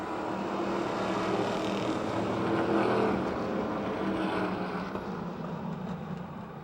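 Race cars roaring around Motordrome Speedway in close pack racing, a steady distant engine drone that swells and then fades slightly, heard alone without commentary.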